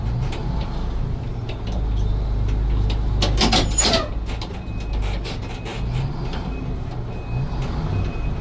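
An Amertek 4x4 fire truck idles with a low engine rumble while reversing, with faint repeated reversing beeps, a burst of hissing air midway, and mechanical clanks close by.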